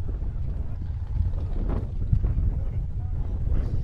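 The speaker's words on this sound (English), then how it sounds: "It's a little bit windy, but it's 80 degrees and sunny." Wind buffeting the microphone outdoors at Prairie City SVRA off-road park near Sacramento, California, a steady low rumble with gusty swells.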